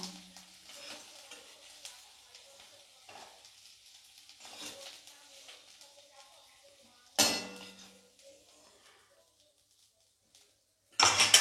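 Fried potatoes are lifted out of a pan with a utensil, giving soft scraping and light clinks over a faint sizzle, then a louder clatter near the end after a short quiet stretch.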